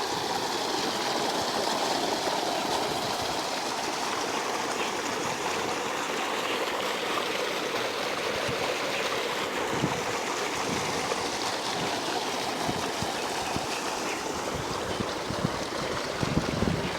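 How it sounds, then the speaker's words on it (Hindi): Water gushing steadily from an electric tube well pump in a rural Pakistani village, a loud continuous broadband rush with no breaks, close to the outflow. "इधर भी दोस्तों एक ट्यूबवेल लगा हुआ है और ये इलेक्ट्रिसिटी पर है"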